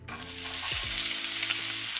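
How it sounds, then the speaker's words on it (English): Jalapeno poppers fry in hot grease in a pan, a dense continuous sizzle and crackle with a low clunk of movement partway through, close and steady. "Nice good sizzle."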